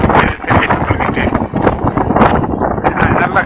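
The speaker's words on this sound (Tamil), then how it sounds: "நல்ல காற்று, அதிகமான காற்று அடித்துக் கொண்டிருக்கிறது" Strong wind at Vivekananda Rock in Kanyakumari, buffeting the microphone with a loud, continuous, gusty roar that rises and dips without pause.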